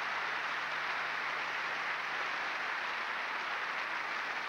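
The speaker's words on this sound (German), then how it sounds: "Und viel Beifall der etwa 5000 Zuschauer in der Stuttgarter Schleife." About 5000 spectators applaud at a women's gymnastics competition in Stuttgart's Schleyerhalle, a steady, dense wash of clapping that holds evenly from start to finish with no voices on top.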